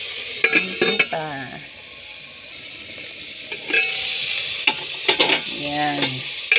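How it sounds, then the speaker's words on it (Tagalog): Tinola ingredients fry and get stirred in a pan, giving a steady close sizzle broken by scraping clatters of the utensil, with a voice speaking over it in short bursts. "Hayaan mo lang maprito. Maprito-prito para masarap."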